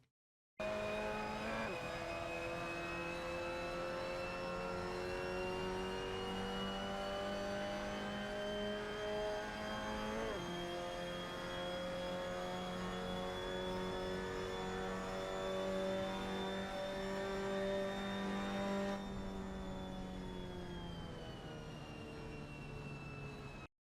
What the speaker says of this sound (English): So that was a lap with the Mazda MX-5 Cup at Mugello